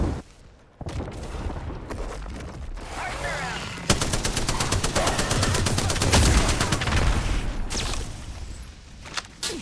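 Gunfire in a battle royale video game comes as rapid, loud automatic bursts, dense and continuous through most of the stretch after a brief quieter start, with a few sharp single cracks.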